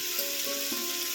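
Jackfruit and shrimp curry sizzles in a pan as it's stirred with turmeric, cumin and chili powder, a constant close hiss with a few soft scraping strokes.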